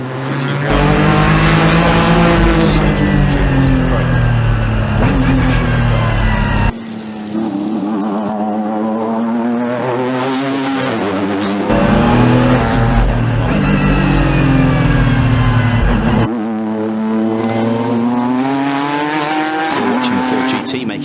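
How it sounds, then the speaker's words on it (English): A Porsche 911 GT1 race car powers up the Goodwood hill climb, its engine screaming loud and close through repeated rising gear changes with sharp shifts between them, under a commentator's voice. "Porsche 911 GT1."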